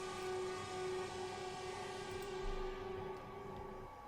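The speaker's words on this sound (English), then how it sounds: "That is the horn of the Shinkansen 500 series as well." Shinkansen 500 series train horn in the simulator game Train Drive ATS 4, a steady sustained tone held for nearly four seconds over a constant rumble of the running train, with no talk.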